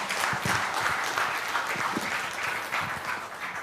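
Sustained audience applause in an indoor hall for a lawyer being welcomed to a data protection and law talk, dense and steady clapping throughout at even loudness with no talk.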